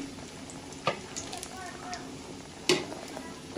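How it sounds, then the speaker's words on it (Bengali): Egg chops, Bengali battered egg fritters, deep-frying in hot oil in a village home kitchen, a steady soft sizzle with two brief sharper splashes or clatters as pieces go in. "আমি হচ্ছে এখন ডিম চপগুলো ভেজে নিচ্ছি, একটা করে সবগুলো দিয়ে দিচ্ছি"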